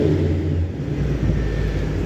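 A front-engine V8 swapped into a 1965 Chevy Corvair idles steadily with a mild cam, giving a low, slightly raspy rumble that stays close and even throughout, with no talk over it.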